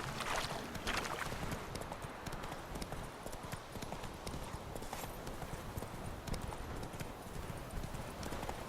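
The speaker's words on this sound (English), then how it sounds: "Whoa there, Roach" Horse hooves clip-clop steadily in The Witcher 3 as the horse moves along, a continuous rhythmic clatter heard alone over light ambient wind.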